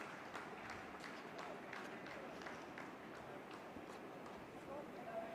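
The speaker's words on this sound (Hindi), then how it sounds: "आप इस तालियों के गड़गड़ाहट को सुन सकते हैं" Scientists in a mission control room applaud during a lunar landing, a dense, steady wash of clapping that runs throughout under faint background talk.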